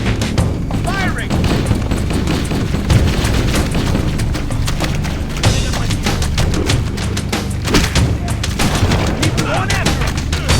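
Dense, loud bursts of gunfire and booming blasts from a Halo: Combat Evolved campaign battle, nearly continuous throughout, with shouted voices in the mix.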